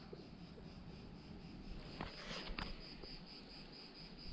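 Cicadas on the slopes of Mont Ventoux in summer, a faint, steady high-pitched buzzing drone in the distance, continuous throughout with a few brief scrapes and rustles in the middle.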